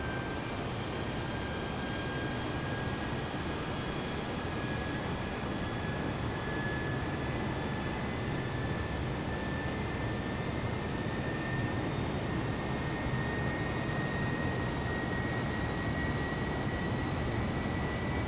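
Airliner engines droning steadily through a climb in Microsoft Flight Simulator 2020, a smooth unbroken broadband roar with a faint tonal whine riding above, no speech.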